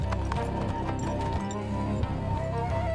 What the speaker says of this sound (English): Only the creaking of the wood and the horses' hooves on the hard snow could be heard.